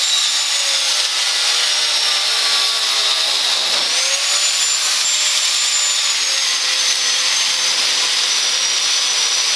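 A power tool with a metal cutting disc grinds through a plastic section of a go-kart steering shaft, giving a loud, continuous high whine that dips briefly in pitch midway and then steadies.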